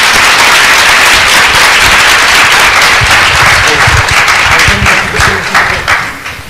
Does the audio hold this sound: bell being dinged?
no